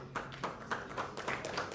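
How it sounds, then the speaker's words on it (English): An audience at a national youth convention claps in a steady rhythm of faint, evenly spaced hand claps heard from a distance. "Makofi, makofi tafadhali. Au ni clap."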